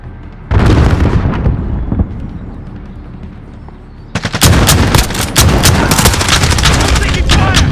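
Gunfire in the video game Call of Duty: Modern Warfare during a hardpoint match: loud, rapid automatic bursts and explosive cracks, with a brief lull before a dense volley of close shots returns and continues to the end.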